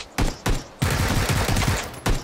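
Gunfire in the video game PUBG, with loud close shots and a sustained rapid burst, like an automatic weapon, between sharp single reports.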